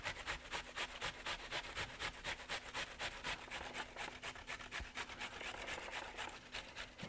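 An onion is rubbed quickly back and forth across a cheese grater, making a rapid, even run of soft scraping strokes, close by but quiet and with no talk over it.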